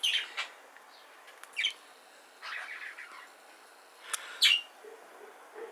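Exhibition budgerigars in a shed aviary give sparse, faint chirps and short tweets, a few scattered calls at a distance with quiet pauses between them.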